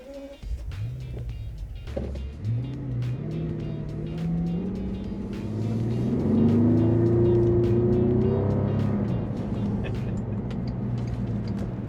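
Bentley Continental Flying Spur W12 driving, its engine rising and falling through gear changes in a smooth, steady drone heard from inside, with faint ticking and no talk.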